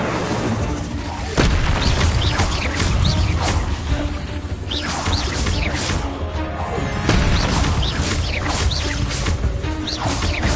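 An Incendio fire spell in the Hogwarts video game bursts out in heavy, booming blasts, with sharp crashing impacts over a dense, loud rumble of combat effects.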